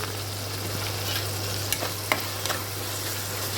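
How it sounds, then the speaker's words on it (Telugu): Sprouted green gram (moong) fries in a pan with a soft, steady sizzle, punctuated by a few sharp clicks and light stirring knocks, close and fairly quiet, with no voices. "ఇప్పుడు మొలకెత్తిన పెసలు ఉన్నాయి కదా, అది కూడా వేసేసి కాసేపు వేగించుకోవాలి"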